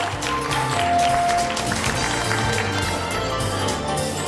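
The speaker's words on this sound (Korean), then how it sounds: "뜨거운 박수로 맞이해 주시기 바랍니다." Applause from a crowd at a medical street festival, a steady dense patter of clapping that stays loud and even throughout, with faint background music underneath.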